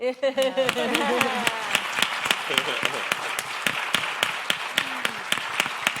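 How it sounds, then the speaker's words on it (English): A live conversation-evening audience breaks into applause, dense clapping that carries on steadily, with a voice speaking over the top at the start. "can I get a round of applause because I would like to hear it too"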